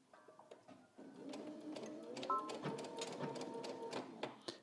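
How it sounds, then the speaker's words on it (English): A sewing machine stitches a seam with a back stitch, making a close, steady mechanical whir with rapid needle ticking that starts after a short pause and runs on with a few sharper clicks. "now I'm going to head to the machine, and I'm going to make sure that I'm stitching right where that pin is all the way down"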